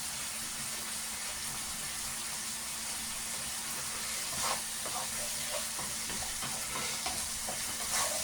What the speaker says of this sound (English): So keep stirring. You want to fry it until it's crispy.